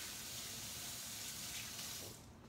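Hot tap water runs steadily into a kitchen sink while hands are washed after handling chicken, a continuous close hiss and splash that thins out near the end, with no talking over it.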